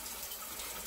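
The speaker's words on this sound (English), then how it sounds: "Got the cold water running and it's 80." Cold water runs from a tap in a steady, fairly quiet gushing stream, unbroken for the short moment.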